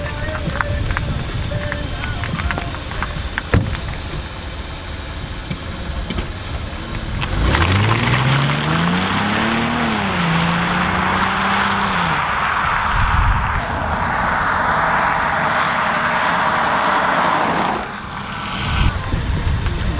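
An Audi rolls along with nobody at the wheel, its engine note sweeping upward and then settling into a steady hum under wind and road noise, close and fairly loud.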